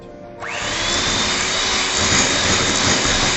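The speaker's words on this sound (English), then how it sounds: "So I am adding 80 grams of brown sugar, and again I will start whisking it." Whisking light brown sugar into butter for chocolate chip cookies: a loud, steady whirring from a mixer that starts abruptly and runs on without pause, close up and alone.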